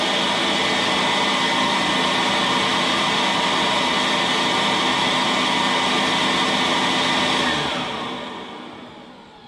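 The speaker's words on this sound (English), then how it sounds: "And you have a sweet smelling vacuum cleaner." A vacuum cleaner runs loud and steady with a broad whooshing roar, then winds down as the motor shuts off near the end.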